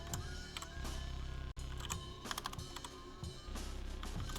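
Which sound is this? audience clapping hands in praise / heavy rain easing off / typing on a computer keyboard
typing on a computer keyboard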